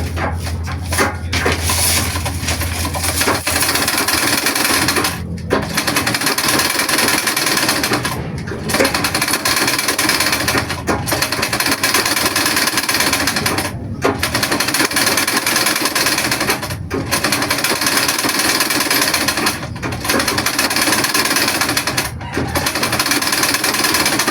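A treadle-powered (makina de padyak) sewing machine runs continuously in a steady, loud mechanical rattle, with brief regular pauses every few seconds as the pedal rhythm resets; close by, no talk.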